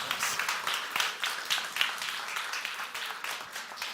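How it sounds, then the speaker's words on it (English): Conference crowd at a fintech event applauds a speaker, dense continuous clapping at moderate distance, holding steady for several seconds with no speech. "So, round of applause for Liudas!"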